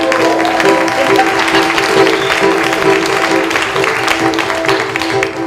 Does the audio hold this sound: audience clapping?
yes